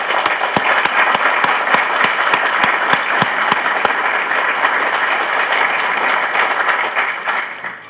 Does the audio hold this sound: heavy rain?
no